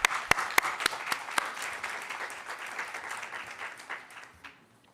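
An auditorium audience at a professional conference breaks into applause, opening with several loud, sharp nearby claps that merge into a steady patter of clapping before fading out toward the end.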